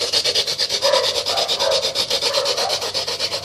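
Coarse sandpaper is worked by hand in quick, rhythmic back-and-forth strokes, each one a loud, close, raspy scrape. The scraping is heard on its own.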